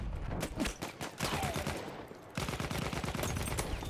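Rapid bursts of gunfire in the video game Battlefield 1, dense and continuous, with loud repeated shots pausing briefly near the middle before resuming.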